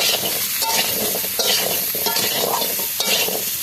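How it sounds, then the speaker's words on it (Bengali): Pumpkin and potato pieces seasoned with salt and turmeric are stirred and fried in a pan, with a steady broadband sizzle and repeated scraping strokes at a fairly even rhythm, close and fairly loud, with no talking. "সবজিটাকে ভালো করে একটু ভেজে নিতে হবে।"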